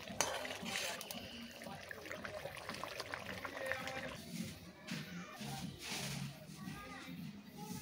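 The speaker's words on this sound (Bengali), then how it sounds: "আমি কিছুক্ষণের জন্য ঢাকনা দিয়েছিলাম, আবারও একটু নাড়িয়ে নিচ্ছি।" A spoon stirs fish curry in a cooking pot, giving soft scraping and clinking strokes at close range, with a voice talking over parts of it.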